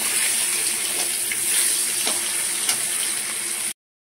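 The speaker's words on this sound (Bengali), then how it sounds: "আর সব মাছগুলোকে আমি ভেজে নিচ্ছি।" Pieces of hilsa fish sizzle in hot oil with a constant close crackling hiss that cuts off abruptly into silence near the end.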